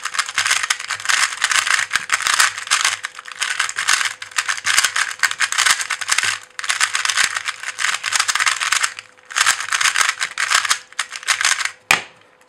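A FangShi ShiShuang 2x2 speed cube clacks and rattles as it is turned fast, in dense bursts of plastic clicking separated by short pauses, loud and close with no talking.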